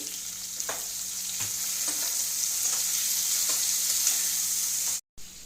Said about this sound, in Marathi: बटाटा आपला चांगला फ्राय झालेला आहे आपण याच्यामध्ये टोमॅटो टाकून घेऊया